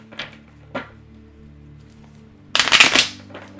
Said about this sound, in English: deck doesn't want to shuffle anymore